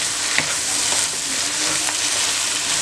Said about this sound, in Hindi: शिमला मिर्च फ्राई करते हुए